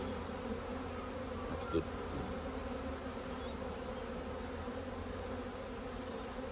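Honeybees buzz on a brood frame from a hive in spring, a steady dense drone close by and unbroken throughout, with a brief spoken remark and a small knock partway through.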